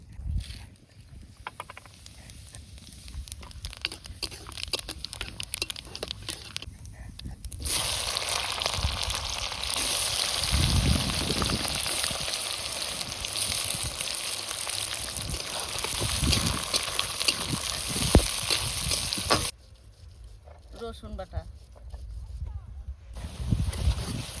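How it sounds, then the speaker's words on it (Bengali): Bay leaf, whole garam masala and cumin seeds sizzle in hot oil at an outdoor village-style picnic cookout, a steady close frying hiss that swells in the middle and settles back toward the end. "তেলের উপরে দিচ্ছি তেজপাতা গোটা গরম মশলা আর কটা গোটা জিরে"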